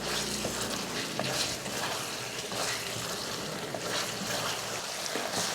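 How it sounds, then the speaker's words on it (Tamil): Chicken with ground masala paste sautéing in hot oil for a chicken gravy, a steady close sizzle with scraping stirs throughout, loud and continuous with no talk. "பேஸ்ட்டு போட்டதுக்கப்புறமா ஒரு 2 நிமிஷத்துக்கு வதக்கி விட்டுக்கோங்க."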